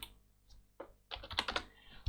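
Keys clatter on a computer keyboard as a number is entered, a few light taps followed by a quick burst of clicks, close and fairly quiet with no talking.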